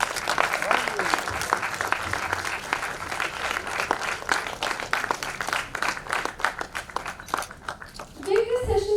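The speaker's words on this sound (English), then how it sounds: "A big round of applause for Ms." An audience at a film festival session in Goa applauds actress Rashmika Mandanna, sustained clapping from a crowd with voices mixed in, tapering near the end.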